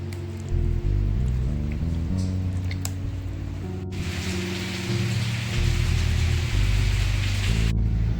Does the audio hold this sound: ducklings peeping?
no